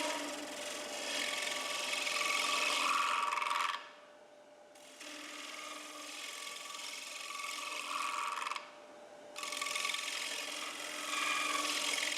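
Shear scraper held against wood spinning on a lathe: a loud, continuous scraping rasp that runs steadily, drops out twice briefly, then resumes at close range with no talk.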